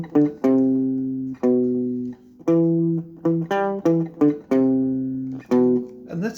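Palm-muted electric guitar plays a riff alone, a run of short, dampened, clearly separated notes in a steady repeating phrase, close and fairly loud.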